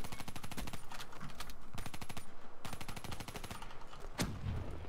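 Automatic gunfire in the Black Ops 3 video game, rapid rattling bursts that are loud and close, broken by short pauses and a single heavier shot near the end.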